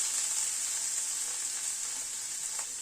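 Egg Schezwan curry stirred in a frying pan, with a steady, bright sizzle and faint stirring scrapes, close and even throughout, no voices.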